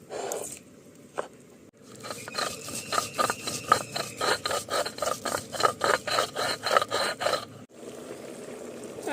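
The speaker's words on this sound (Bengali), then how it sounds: "জিরে আর সর্ষেটা বেটে নেব" Cumin and mustard seeds ground into a paste for a tangra fish and pumpkin-stem curry, a steady run of rhythmic rasping strokes, close and fairly loud, with brief quieter handling before and after.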